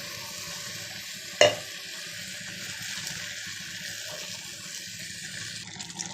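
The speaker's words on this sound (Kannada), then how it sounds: "ಮಸಾಲೆ ಹಾಕ್ಕೊಂಡು ಮಿಕ್ಸ್ ಮಾಡ್ಕೊತಾ ಇದ್ದೀನಿ" A spoon scrapes and stirs through thick ground masala in a pot, with one sharp clink early on and a quiet ongoing sizzle.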